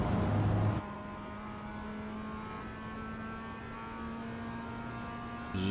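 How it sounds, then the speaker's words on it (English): Race car engine held on throttle at Lime Rock Park, a steady droning in-car engine tone with a loud burst at the start and another at the end, no talking. "Ease off and then squeeze back on the throttle in the uphill."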